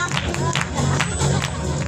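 An audience applauds at a church healing meeting in Pakistan with a brief burst of dense, steady clapping from a crowd indoors.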